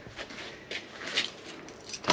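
Motorbike keys jangling in a garage as they are pulled out of the ignition, a few short metallic rattles close by, loudest at the very end.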